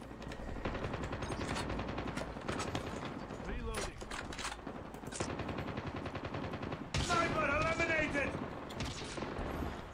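Rapid gunfire bursts from Call of Duty Mobile gameplay, dense repeated shots with mechanical clatter running through the whole stretch, loud and continuous over a busy game soundscape.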